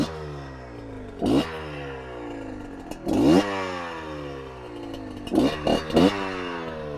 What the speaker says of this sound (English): For those of you who haven't heard this thing fire up yet